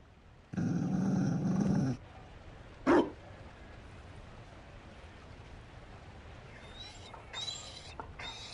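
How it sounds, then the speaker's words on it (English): A Mabari war dog in the video game Dragon Age: Inquisition gives a deep, rough growl lasting over a second, then a single short bark, followed by quieter game ambience and faint clinks. "You found a dog? They don't breed Mabari in Olay."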